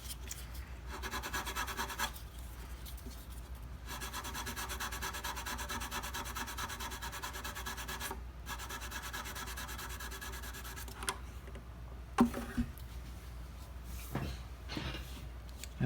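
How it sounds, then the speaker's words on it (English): Sandpaper rubs along the edge of a violin nut during a restoration, in steady, close back-and-forth strokes broken by a few brief pauses, with a faint knock near the end. "sandpaper and round over the edge so it's nice and smooth"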